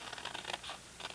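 Cardstock being cut by hand for a gift box, a short burst of quiet, close scratchy snips and rasps in uneven pulses.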